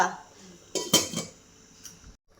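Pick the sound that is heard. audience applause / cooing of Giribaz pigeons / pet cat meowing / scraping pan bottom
scraping pan bottom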